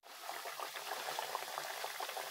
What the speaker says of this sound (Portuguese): Ó, família, que tá fritando já.